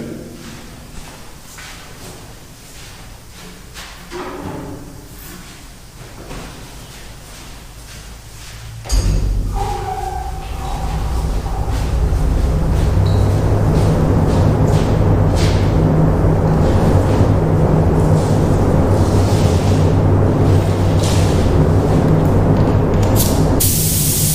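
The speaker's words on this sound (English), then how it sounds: "So let me turn on the booth and we'll start shooting." A paint spray booth's extraction fan starts with a thump partway through, then roars as a loud, steady hiss, with a spray gun shooting paint onto a panel under the constant airflow.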